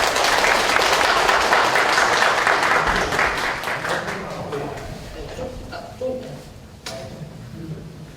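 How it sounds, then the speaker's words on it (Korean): Audience applause at a company quality competition award ceremony, loud dense clapping for the first few seconds that thins and fades toward the end, with a voice speaking over the tail. "큰 박수 부탁드립니다."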